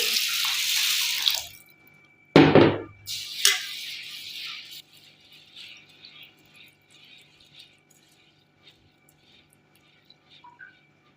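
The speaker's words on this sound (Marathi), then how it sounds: "2 पाण्याने गहू स्वच्छ धुवून घ्यायचे आहे।" Water splashes and sloshes in a bowl up close as wheat grains are washed, with a burst of pouring and rinsing early on, then quieter drips and faint clinks.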